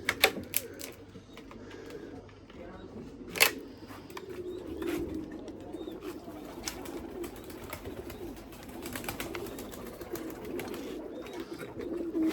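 White breeding pigeons coo steadily in a loft, a low continuous murmuring with a few sharper clicks and knocks scattered across it.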